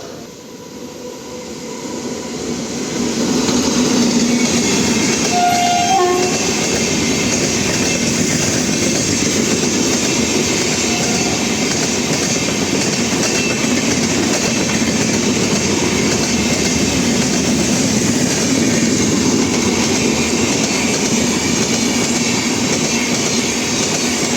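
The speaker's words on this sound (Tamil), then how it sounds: "எர்ணாகுளம் வேளாங்கண்ணி எக்ஸ்பிரஸ் ஸோ கிளம்ப ரெடியாக இருக்குது" The Ernakulam–Velankanni Express, running with LHB coaches near Tripunithura in Kerala, swells into a loud, steady roar of rolling wheels and rail noise that stays close and constant for over twenty seconds.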